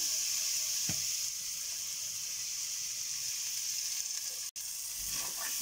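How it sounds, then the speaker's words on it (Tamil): Moong dal roasts in ghee in a pan, giving a steady close hiss with a couple of soft knocks and no speech. "நல்லா வறுத்துக்கலாங்க பாசி பருப்பு லைட்டாக வறுப்பட்டுருச்சுங்க"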